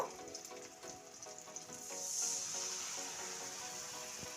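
Spice paste for a village-style desi chicken curry sizzles in a wok: a steady, close frying hiss that swells louder partway through and holds.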